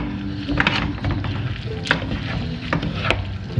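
A new wooden spoon stirs freshly dropped egg white tagliatelle in a pot, making soft watery swishes and a few light knocks against the pot over a low bubbling background.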